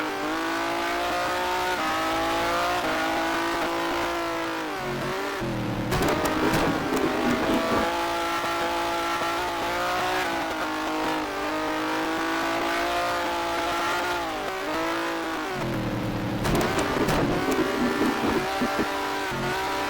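Race car engines in the F1 Challenge racing game scream continuously at high revs near a pit stop, rising and falling through gear shifts, with brief bursts of tire and mechanical noise around the middle and near the end.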